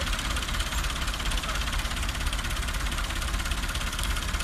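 A tractor engine idles close by with a loud, steady, dense rumble and chug that holds even for several seconds, with no talking over it.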